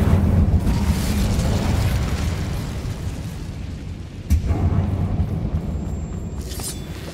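A fiery Incendio spell blast in the video game Hogwarts Legacy gives a loud, low roaring rumble that slowly fades, then a sharp burst flares midway and a lighter crackle follows.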